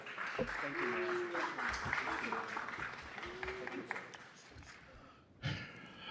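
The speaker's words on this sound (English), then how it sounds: "another big round of applause" Applause from a city council meeting audience, a sustained wash of clapping with voices talking over it and a brief louder burst near the end.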